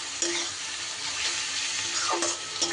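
Kashmiri chili and turmeric powder stirred in hot oil, a steady close sizzle with a few spatula scrapes against the pan.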